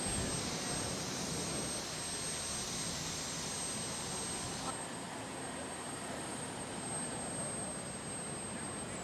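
Jet-powered pulling vehicle Jet Lag at a county fair pull, a loud continuous jet roar with a piercing high whine, steady and close for the whole stretch, shifting slightly midway.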